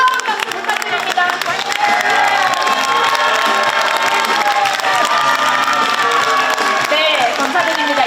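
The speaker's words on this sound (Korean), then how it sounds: "여러분 다시 한번 뜨거운 박수 부탁드립니다" A crowd at a Korean political rally applauds warmly, dense sustained clapping mixed with cheers and shouts filling the space, loud and continuous throughout.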